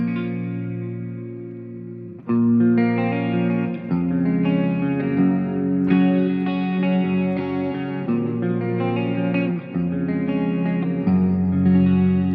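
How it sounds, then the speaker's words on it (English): A guitar played through a big double-tank plate reverb in the Helix Native software plugin rings out in sustained, driven chords, each change trailing into a wide shimmering wash. "That's a big reverb."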